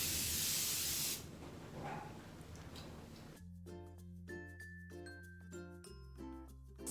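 A facial mist spray bottle, used as a toner and face mist, gives one loud close hiss lasting about a second, then fades out under a quiet background with music.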